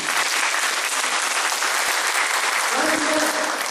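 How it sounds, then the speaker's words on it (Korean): An audience claps steadily and loudly throughout a church praise and testimony gathering, a dense, sustained round of applause. "주님께 영광의 박수 부탁드립니다."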